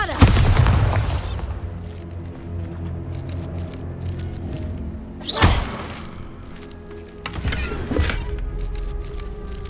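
A Bombarda blasting spell explodes in Hogwarts Legacy, opening with a heavy close boom, then a quieter rumbling stretch broken by two more thudding blasts partway through and near the end.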